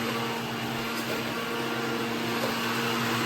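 A mixer grinder runs at a kitchen food-preparation site, giving a steady, unbroken motor whine at moderate loudness with no talk.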